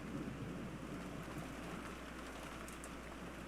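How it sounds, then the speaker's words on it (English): Steady falling rain with a low, continuous thunder rumble underneath, soft and distant with no distinct cracks, forming a quiet storm bed. "Then came the sound of thunder, the sound of falling rain and wind."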